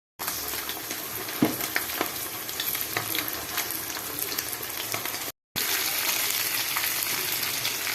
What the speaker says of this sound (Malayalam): നമ്മൾ മീൻ അങ്ങനെ മുരുമുരി ആവുന്നുണ്ട്